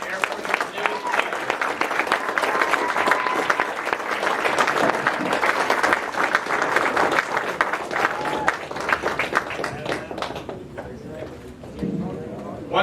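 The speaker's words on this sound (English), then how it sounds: "Please join me in applauding our Air Force's newest leader." Dense crowd applause at an Air Force ALS graduation ceremony for Class 20F, loud and steady for about ten seconds, then thinning to scattered claps near the end.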